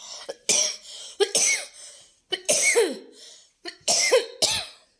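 A person who is unwell coughs in close, harsh bursts, four separate fits over a few seconds with short quiet gaps between them.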